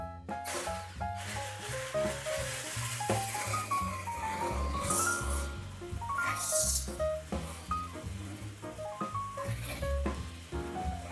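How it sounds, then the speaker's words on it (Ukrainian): Four eggs and 300 grams of sugar are beaten together in a bowl for a cheesecake-style cake batter, giving a steady, continuous busy whirring and clattering that runs unbroken throughout with no talking. "І 300 грам цукру ми просто це діло збиваємо разом."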